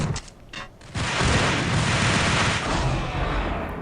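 Shotgun blasts and scattered gunfire in the video game Max Payne, a few faint shots first, then a loud dense burst of firing that stays busy to the end.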